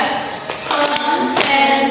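A group claps along to a sung tune in a school guidance session, a dense, continuous wash of hand claps close by with voices blended in.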